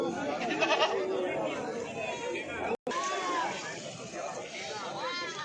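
Goat bleats at a livestock market selling goats, heard under loud crowd chatter and people talking nearby, with a brief cut midway.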